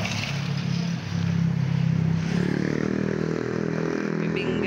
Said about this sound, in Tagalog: sakay kami ng motor mga kapiks.